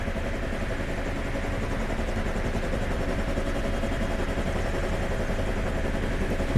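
Simulated UH-1 Huey helicopter in flight in FSX, a constant loud rotor and turbine drone with a fast, steady pulsing beat, running unbroken with no talk.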